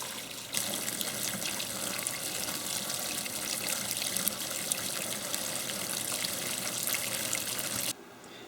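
Boil-out solution pours as a steady gush of water, washing leftover wax from a denture in the wax space; the broadband rush starts after a brief pause, runs continuously and close, then cuts off near the end.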